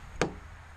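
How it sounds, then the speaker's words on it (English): A car's power door locks engage with a single sharp mechanical clunk, close and brief, standing out against a quiet background. "let me lock my doors real quick."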